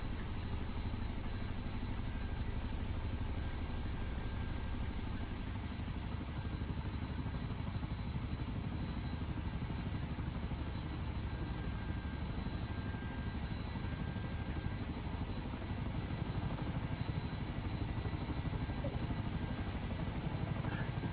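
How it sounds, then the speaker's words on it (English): A helicopter flying over a canyon gives a steady, continuous rotor and engine drone that holds at a constant moderate level for the whole stretch, with no clear voices. "I like the sound of that helicopter."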